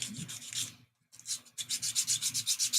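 A wooden edge is sanded by hand in quick back-and-forth strokes, about a dozen rhythmic rasping passes after a brief pause, close and clear with no talking.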